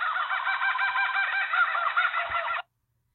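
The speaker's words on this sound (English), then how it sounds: "it's giving me the sound the kookaburra makes" A kookaburra call plays from an educational app as one continuous, raucous, chattering cackle lasting about two and a half seconds, then it stops abruptly into silence.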